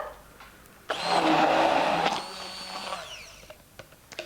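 Electric blender whirring through tomato, cucumber and vodka, a loud steady motor burst of about a second that then eases to a lower hum and fades out, with no talk.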